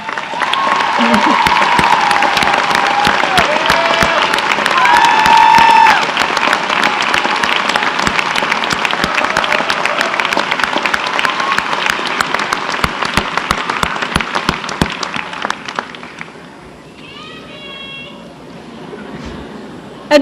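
Large graduation audience applauds loudly and steadily for families and friends, dense clapping sustained for about fifteen seconds before dying away to scattered claps and quiet.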